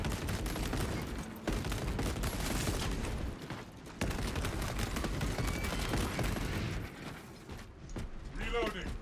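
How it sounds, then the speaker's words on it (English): Sustained heavy bolt rifle fire in a sci-fi shooter game, dense rapid bursts running almost continuously at high volume with brief pauses, mixed with mechanical clatter and other game noise. "On my go-to heavy bolt rifle now."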